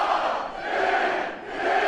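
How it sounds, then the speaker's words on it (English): A wrestling crowd cheers loudly for Rob Van Dam at a PCW Ultra match against John Morrison. The roar is dense and continuous, swelling and dipping in waves with no break. "gets the blessing of the crowd and delivers"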